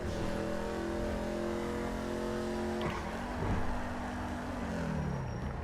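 A car in GTA 5 Online races along at high speed, its engine droning steadily with a shifting pitch that drops near the end as the vehicle changes pace, heard alone without talk.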